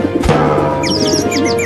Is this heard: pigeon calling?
yes